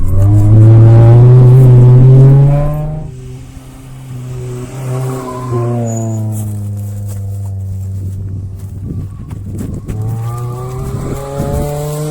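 A Suzuki Swift Sport 125 skids with a loud, drawn-out tire squeal and engine drone, then a lower squealing slide and revving continue nearby with no speech.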